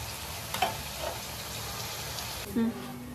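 A chicken curry for homemade dum biryani simmers in a pan with a soft, steady sizzle and faint bubbling, close and low, with a couple of brief tonal clinks or vocal sounds partway through.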